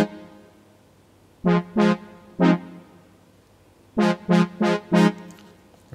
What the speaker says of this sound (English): And what I use was analog horns under synth brass